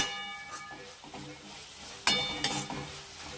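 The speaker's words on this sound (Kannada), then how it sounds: "ಸ್ವಲ್ಪ ಸೇರಿಸ್ಕೊಂಡು ಇದೆಲ್ಲ ಚೆನ್ನಾಗಿ ಫ್ರೈ ಮಾಡ್ಕೊಳ್ಳೋಣ." Spices with turmeric powder frying in a pan for a puffed rice seasoning dish, a soft sizzle broken by a few sharp scrapes and clinks of stirring, close up and brief.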